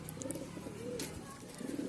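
Pigeons, including American breed pigeons, coo softly and repeatedly close by, low rolling calls with faint background rustle.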